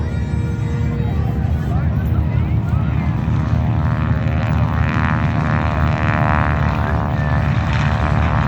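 A propeller airplane flying at the annual Flying Circus air show in Bealeton, Virginia: a loud, steady droning engine roar with a shifting pitch as it passes, with speech around it.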